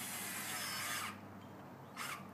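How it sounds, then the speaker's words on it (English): A power drill whirs loudly up close for about a second, stops, then gives one short burst. "There's my driller."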